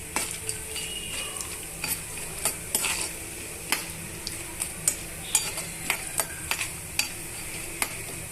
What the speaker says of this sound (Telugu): ఒక రెండు టేబుల్ స్పూన్ల వేరుశనగ పప్పుల్ని వేడి చేసుకొని ఇవన్నీ కూడా బాగా వేగనివ్వాలండి